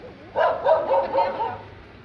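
A dog barks in a short burst of several yelps, fairly close and moderately loud, along a deserted rural road in Punjab, with faint background noise.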